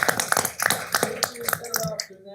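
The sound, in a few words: audience applause at a city council meeting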